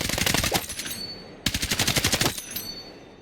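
Automatic gunfire from a weapon in the video game Battlefield 6, two sustained rapid bursts of close, loud shots, the second starting after a brief break and stopping abruptly.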